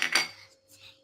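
A large spoon clinks against a pan while cocoa glaze is being prepared, with a couple of quick metallic knocks near the start that fade into quiet kitchen room tone.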